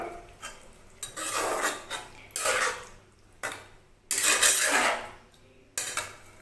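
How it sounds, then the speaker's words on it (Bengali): Hot water poured into a pan of mixed vegetable kootu, giving several sharp, hissing and splashing bursts with clinks of metal cookware in between. No one speaks. "এবার আমি এর মধ্যে জল দিচ্ছি, আর জলটা হবে যেন গরম জল হয়।"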